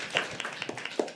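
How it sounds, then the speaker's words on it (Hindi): A small audience at a live poetry open mic claps for a performer, a sparse handful of distinct hand claps in an uneven rhythm, fairly quiet in an indoor room. "एक बार जोरदार तालियां अर्श के लिए"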